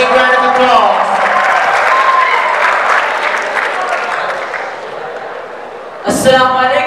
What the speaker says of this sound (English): Come on, audience, give a big round of applause.